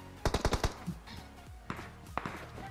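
Rapid burst of gunfire in the mobile battle royale game PUBG Mobile, five loud close shots in quick succession followed by fainter, more distant shots scattered through the rest.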